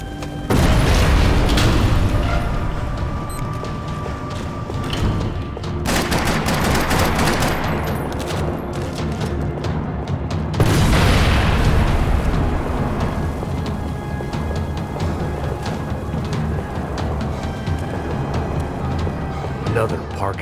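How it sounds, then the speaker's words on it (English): Bursts of automatic gunfire and heavy booms echo through a parking lot in the video game Max Payne 3, rattling volleys rising and falling over about twenty seconds, with a voice talking over parts of it. "Another parking lot rattling with gunfire."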